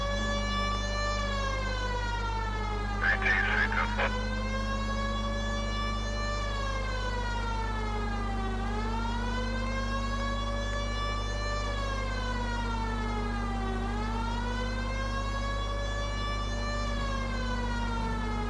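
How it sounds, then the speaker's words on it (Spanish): A police car siren from the video game L.A. Noire wails in long rising and falling sweeps, loud and continuous, with a brief burst of noise near the start and no talking. "Activas la sirena."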